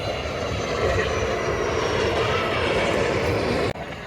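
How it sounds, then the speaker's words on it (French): A military aircraft passes overhead, one of several in quick succession, giving a loud, steady broadband roar that fills the whole stretch and cuts off abruptly near the end. "Un avion militaire, à ça."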